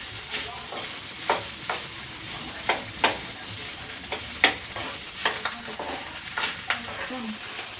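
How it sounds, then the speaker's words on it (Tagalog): Three cups of cooked rice are stirred and fried in a hot frying pan. A spatula makes repeated close scraping strokes over a constant sizzle, with no talk. "Add 3 cups of cooked rice. Stir until dissolved."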